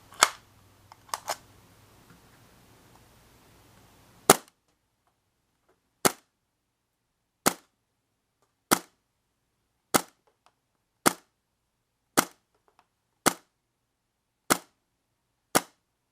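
Tokyo Marui MP7 gas blowback airsoft gun on green gas firing 0.2 gram BBs: about twelve sharp, loud, close single shots, a few early ones over faint background noise, then spaced at steady intervals in silence.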